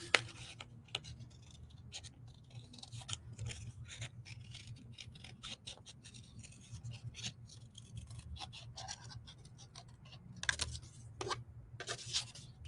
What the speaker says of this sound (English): I'm going to cut the little boo circle